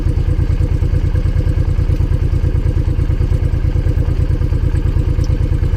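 Honda VTX V-twin motorcycle engine idles close by with a steady, loud lumpy pulse, its rhythmic thumping slowing slightly as the revs drop.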